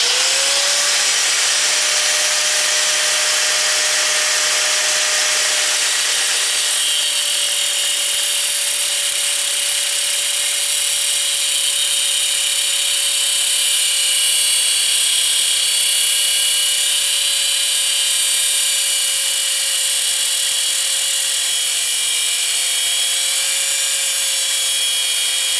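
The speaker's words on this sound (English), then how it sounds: "We're going to rough it in with a grinder, so stick it in the lathe, we'll get it spun up, and then we'll just kind of hit it with a cut wheel" A metal part for a springer front end spins in a lathe while an angle grinder's cut wheel cuts into it. A loud, steady, high-pitched whine with a sustained tone runs unbroken for the full length, with no voices.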